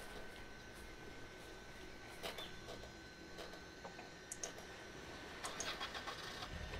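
An engine turning over and starting in the video game Dead Island, as a vehicle is boarded, a steady mid-level rumble running throughout with a few sharp knocks and clicks on top.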